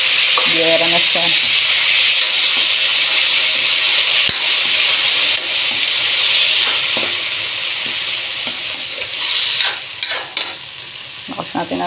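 Tomatoes sauté in a pan with fried milkfish (daing na bangus): a loud, steady sizzle with stirring scrapes that eases and becomes more broken toward the end.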